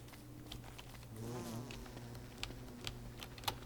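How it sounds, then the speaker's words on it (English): Killer bees buzzing in the spring season of Don't Starve: Reign of Giants, a faint, wavering drone rising in the middle with scattered clicks and taps over a quiet background. "another key difference in spring, nothing but killer bees"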